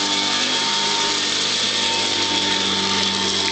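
A Royal 608 upright vacuum cleaner with a 3-amp motor and metal fan runs steadily, a loud continuous motor whine and airflow rush held at an even level throughout.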